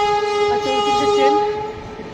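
A mail train approaches a station on a cold, foggy morning and sounds a sustained tonal horn, loud and close, over a rumbling background that fades slightly toward the end.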